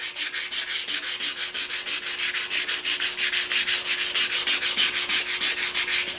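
A natural-edge wooden bowl on a lathe is being sanded in the direction of the grain, giving close, loud, evenly repeated rubbing strokes, about five per second, that continue without a break and with no voices.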